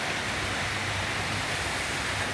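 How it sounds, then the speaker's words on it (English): Rain falls steadily on a farm, a dense, even patter of broad noise with no breaks and no voices. "it's raining"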